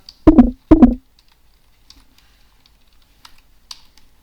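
Keyboard typing while writing PHP object-oriented code: two quick bursts of close, loud key clicks near the start, then a few faint isolated taps over near silence.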